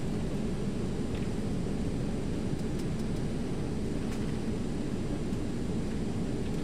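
A jet airliner's engines roar with reverse thrust as it decelerates after landing, heard as a constant, dense broadband rush from inside the aircraft, with no voices.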